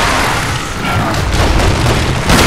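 Gunfire in the Resident Evil 6 video game, with loud overlapping booms and bursts filling a dense, noisy roar that stays heavy and distorted throughout.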